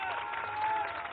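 An audience claps in brief, faint applause, a soft wash of clapping heard for about a second against a thin tone, with no voices over it.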